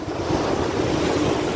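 Ocean waves roll steadily onto a scenic shore, a continuous broad wash of surf with a dense low rumble and some wind buffeting the microphone, with no voices.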